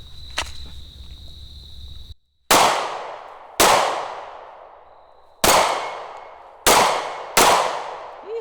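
A SIG P365 pistol fires five sharp, loud shots outdoors, irregularly spaced, each with a ringing decay. Faint clatter and a steady insect-like hum come before the first shot, and nobody speaks.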